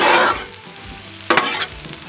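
A whole stick of butter and a bulb of garlic sizzle on a Blackstone griddle, a loud hiss fading into quieter frying, followed by a short burst of spatula scraping as everything is mixed.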